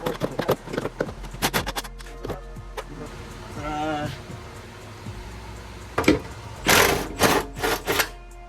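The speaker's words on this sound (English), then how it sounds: "So now we're gonna bust both top bolts loose, 14s." A wrench loosens the top suspension bolts on an RSX Type S, giving bursts of rapid metallic clicking and ratcheting, close and fairly loud, with some talk mixed in.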